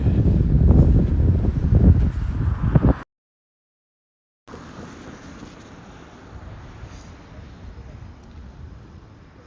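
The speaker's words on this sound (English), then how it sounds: "That wind is probably not good." Wind buffeting a microphone outdoors on a city street in Toronto, a loud low rumble for three seconds, then a brief dropout, then a steadier, fainter wind roar.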